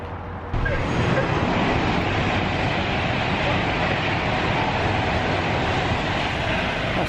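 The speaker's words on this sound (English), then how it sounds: "That's 2 trains, one just left" Trains pulling out at Clapham Junction in chilly weather, a heavy continuous rumble and roar of wheels on rails that starts abruptly and holds steady and loud throughout, with no talk over it.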